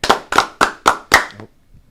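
Five sharp hand claps in a steady rhythm, close and loud, followed by a brief quiet moment.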